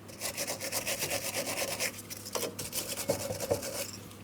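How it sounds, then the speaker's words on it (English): A wire brush scrubs the lower shock absorber bushing mounting area on the rear knuckle of a 2003-2007 Cadillac CTS, a rapid run of rhythmic rasping back-and-forth strokes, close up, pausing briefly before a few harder strokes. "I'm using a wire brush."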